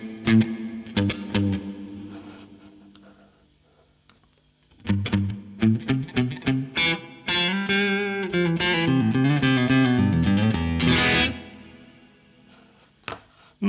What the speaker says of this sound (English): Let's try one of the spring reverbs.